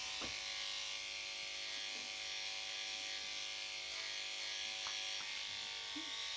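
Electric clippers buzz steadily throughout while a long-bodied dog's underside is shaved, a constant mechanical hum with a few faint knocks as the blade shifts position.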